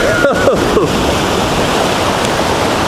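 Ocean waves surge in a continuous loud wash of water, with a few short sharp knocks and squeaks near the start, then a steady churning rush.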